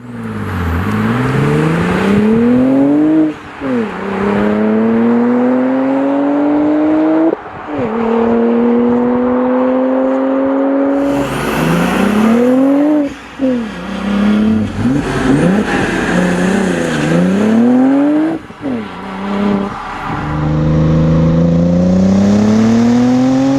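An Audi RS4 B5 Avant's 2.7 biturbo engine revs repeatedly through rising gear pulls, with roaring exhaust, brief drops between shifts and throttle blips, loud and close.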